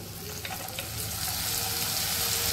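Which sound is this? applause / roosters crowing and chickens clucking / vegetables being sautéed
vegetables being sautéed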